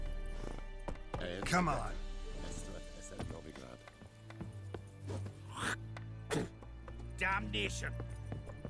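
The horse Roach gallops in Witcher 3 with a quick, rhythmic clip-clop of hooves under a low drone, while short spoken lines from a character break in over the hoofbeats.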